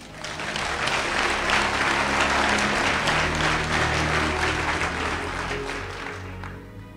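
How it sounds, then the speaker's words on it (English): A congregation at a sermon bursts into loud, dense applause that swells and holds steady, then gradually fades over several seconds, with a low hum underneath. "you can clap if you want."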